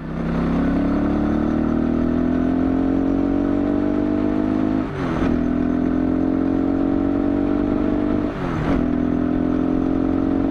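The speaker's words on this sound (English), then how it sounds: "This engine doesn't sound safe, dude." A 250cc motorcycle engine runs roughly, droning loudly as it rises in pitch through the gears, with two brief breaks and a slightly rough, uneven tone.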